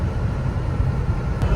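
A 1989 Porsche 911 25th Anniversary Edition taking a corner at speed, heard from inside the cabin as a steady, loud rumble of engine and road noise with no talk.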